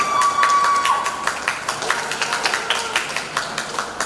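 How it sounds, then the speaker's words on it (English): An audience at a student association election debate gives a round of applause, with dense clapping and some cheering that swells at the start and then continues steadily throughout. "can I get a round of applause everybody?"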